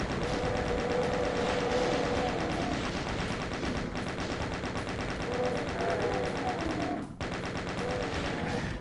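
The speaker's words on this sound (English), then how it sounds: "now I need the chain gun" A chain gun fires in the Doom video game, a loud, continuous rapid burst of shots that runs almost unbroken for nearly nine seconds amid other game noise.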